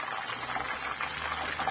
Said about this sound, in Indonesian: Ini kita goreng agak-agak separuh masak ya.